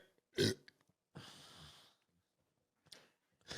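Loud burps from people drinking beer while recording a podcast, a strong one near the start, a long drawn-out belch after it, and a couple of shorter bursts at the end, all close to the microphone.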